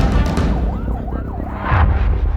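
A wailing siren sounds from inside a speeding ambulance rushing a patient to hospital during citywide flooding, its tone sweeping up and down over loud, rumbling cabin and road noise, with brief muffled voices.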